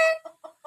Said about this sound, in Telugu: ఇంకా 3 కోళ్ళు చూపిస్తాను